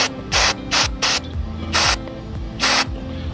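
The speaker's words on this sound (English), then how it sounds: "a little dry lube up inside there, it'll go ahead and it'll lubricate that mechanism" Several short, loud bursts of aerosol dry lube hiss in irregular succession into the spring mechanism of an RV awning, separated by brief pauses, with a faint background hum and no talking.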